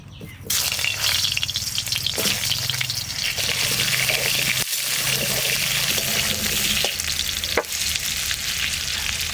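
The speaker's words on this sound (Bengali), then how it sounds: "সরষের তেল, আলু কটা একটু ভেজে নেব" Potatoes fry in hot mustard oil with a loud, continuous close-up sizzle and occasional clinks and rattles of a utensil.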